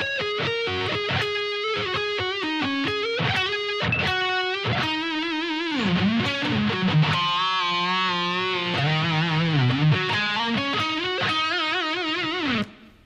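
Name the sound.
distorted electric guitar playing a solo section slowly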